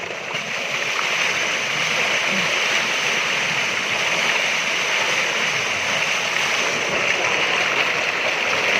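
Water gushes steadily from a village tubewell in Gujranwala, Pakistan, a loud, continuous broadband rush of pouring and splashing heard up close, with voices faintly underneath.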